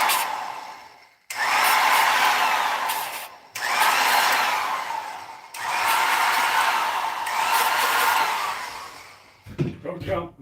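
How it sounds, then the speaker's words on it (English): A power tool bevels the finger holes of a bowling ball in three long, loud whirring runs separated by brief pauses, with a short clattering sound at the end. "We're gonna bevel the finger holes just a bit."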